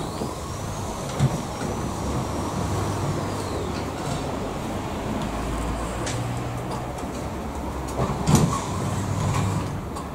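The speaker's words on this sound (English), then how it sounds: "So we're now going to lower the garage door as you normally would." A StormMeister storm and flood garage door lowering steadily, a continuous low mechanical rumble and hum with a couple of brief clunks, heard alone at moderate level.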